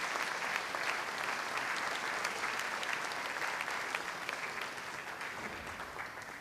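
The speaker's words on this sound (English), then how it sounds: "You all deserve a round of applause" An audience at a Yom HaShoah commemoration in Teaneck claps for the committee members. The applause is full and sustained, heard from some distance, and eases slightly toward the end.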